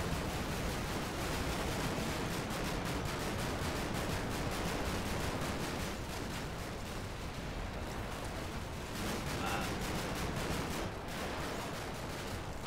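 Mark 19 grenade launcher fire in the wargame Combat Mission Black Sea, heard as a dense, continuous roar of rumbling blasts and explosions that stays loud and steady throughout, with no voices.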